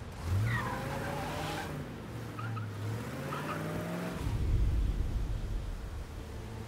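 Car engine droning with shifting pitch and tire noise in the video game Mafia, a steady mid-level drive with a louder rumble near the end.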